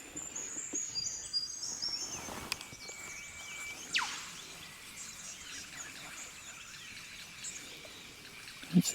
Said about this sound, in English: Absolutely beautiful sounds from the birds.